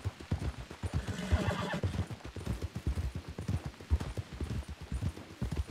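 Horse hooves clip-clop in a steady walking rhythm in a western video game, near and moderately loud, with a neighing whinny partway through.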